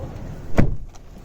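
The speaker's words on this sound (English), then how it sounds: "Let me just close the door." A Tata Safari SUV door shuts once with a single solid thud, close and clear, followed by a quiet interior.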